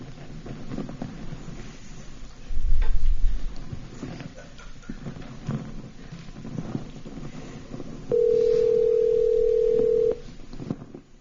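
Phone call placed to a Storelocal Storage number during a conference session, a burst of dialing then a steady ringback tone lasting a couple of seconds amid room noise.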